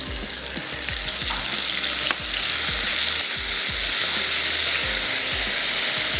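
Whole dried round red chillies, garlic and ginger frying in a pan with steady sizzling hiss and occasional stirring scrapes, close and continuous with no talking.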